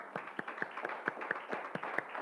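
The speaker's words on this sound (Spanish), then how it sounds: "Vamos a darle un aplauso al Señor." Sparse, irregular claps from a church congregation during a Spanish-language service, a handful of separate hands striking unevenly at close range rather than a full ovation.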